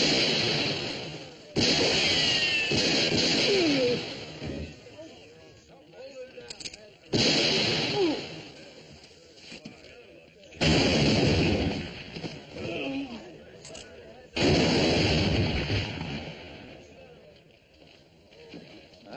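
Gunshots crack out in several loud, widely spaced bursts in an old Western drama, with talk running between them.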